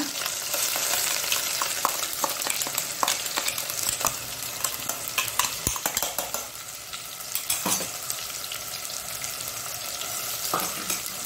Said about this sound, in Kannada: ಈಗ ಇದನ್ನು ಚೆನ್ನಾಗಿ ಇದರಲ್ಲಿ ಇದು ಫ್ರೈ ಆಗಬೇಕು.